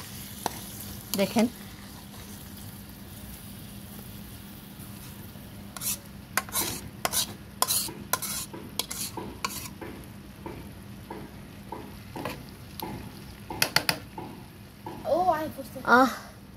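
Prawn malai curry being added to biryani in a pan and stirred, with scattered spoon scrapes and clinks and a faint sizzle, close, while a voice speaks briefly.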